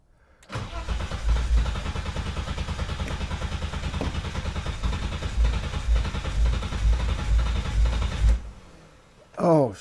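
A BMW E30 engine cranks over and over in a long, loud, steady churn as it tries to start, stopping abruptly near the end, followed by a brief final burst.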